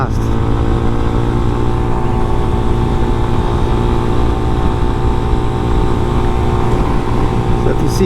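A small motorcycle rides along a curvy Florida road, its engine a steady, loud drone mixed with wind rush that holds an even level throughout.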